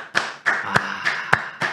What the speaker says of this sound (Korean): 그냥 이거 박수 한번 치자.